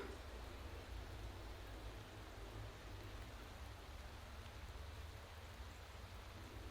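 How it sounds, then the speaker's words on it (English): Steady, dense rain hiss in the Motorsport Manager racing game on race day, a constant even wash of falling rain with no breaks and no talk over it. "So it is raining on race day, of course."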